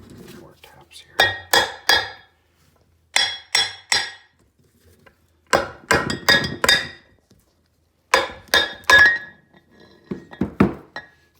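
Metal tapping on the differential of a 2004 Honda Foreman ES ATV while removing the diff locker: four clusters of sharp clinking hammer taps, each a quick run of three to five strikes, separated by quiet pauses.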